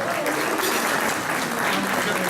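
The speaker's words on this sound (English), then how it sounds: "One more big round of applause for Principal Jessica." Dense, sustained applause from a gala audience at a Latin American chamber of commerce event, honoring a school principal; a full, even roar of many hands with no pauses.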